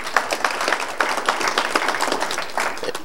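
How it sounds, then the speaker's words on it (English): Volunteers at a community event applaud at a commissioner's prompt, a dense, even wash of many hands clapping at moderate volume with a few sharper claps poking through. "Give yourselves a round of applause."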